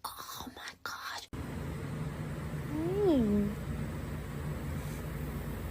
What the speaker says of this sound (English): He's hissing at me.